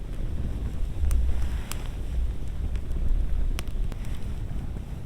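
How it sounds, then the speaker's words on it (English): Blustery winter wind buffets the microphone in deep, uneven rumbles that swell and ease, with a few faint clicks outdoors in snow at -11°F and no talking. "the wind gusts are just crazy"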